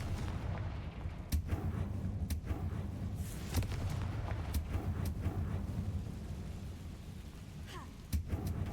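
In the Hogwarts Legacy video game, the Confringo fire spell goes off in several sharp, booming blasts spread across a constant rumbling game background, close and fairly loud.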